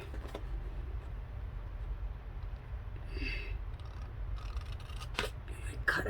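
Scissors snip through paper along a score line while a gift box with compartments is made, giving soft close cutting and rubbing sounds over a low steady background hum.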